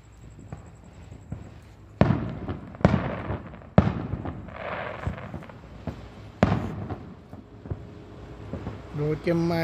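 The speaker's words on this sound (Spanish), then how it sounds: "Y sigue la tracatera, mira." Fireworks and firecrackers go off at an Independence Day celebration in the United States, a series of sharp loud bangs and crackles a few seconds apart, with people talking and exclaiming between the blasts.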